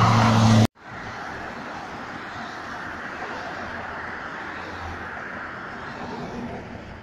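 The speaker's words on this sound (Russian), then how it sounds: "Машина тяжело едет" A car moves slowly through deep, freshly fallen snow, giving a steady, close rumble of engine and crunching tyres that holds evenly for several seconds after a brief louder burst at the start.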